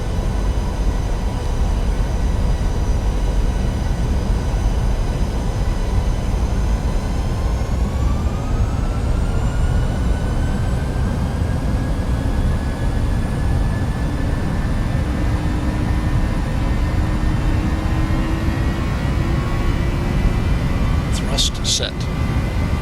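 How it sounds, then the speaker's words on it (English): PMDG 737-800 jet engines spooling to takeoff thrust in the flight simulator FSX: a steady, loud roar with rising whining tones as the engines climb, sustained throughout, with a brief clicking burst near the end and talk mixed in. "Set takeoff thrust"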